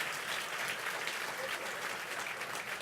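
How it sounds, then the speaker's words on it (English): Audience applause at a county MLK celebration, a steady, even roar of many hands clapping that holds at a constant level through the whole stretch. "Let's give her a round of applause."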